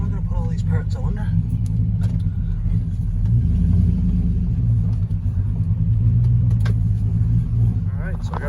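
A Chevrolet Silverado pickup with a Cadillac conversion idles after being backed into place, a steady low engine rumble that stays loud and even, with faint clinks and small movements on top.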